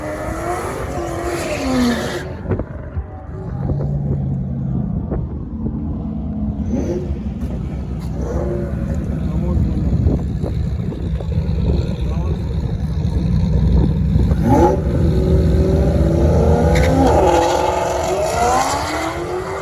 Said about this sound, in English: I will try to insert a clip of his car at the track so you guys remember.